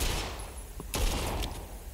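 Fireworks burst in the video game Dead Rising, a quick crackling volley of sharp pops and bangs, loud and close, fading into a hissing rumble with no talk over it.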